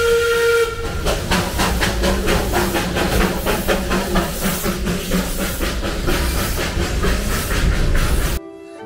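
Steam whistle of the Darjeeling Himalayan toy train on the Siliguri–Darjeeling line, sounding loud and close with strong hiss and rhythmic chuffing for about eight seconds before cutting off abruptly.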